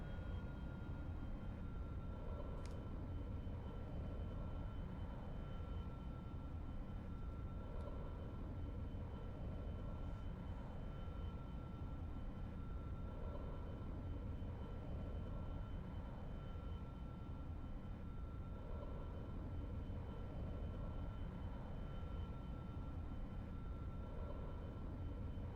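A steady, droning airplane engine hums continuously in the X-Plane flight simulator during a night approach to Mostar, a constant loud roar with faint tonal whine and no voices.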